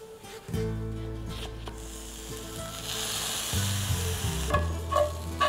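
Chickpea flour scramble sizzling steadily in a pan as large chunks are broken up, a continuous close frying hiss with a few scraping stirs and a low hum underneath.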